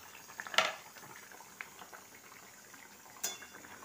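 Smoked eggs bhuna stirred in a pan with a utensil: quiet scraping under a low bubbling, with two sharp metallic clinks against the pan.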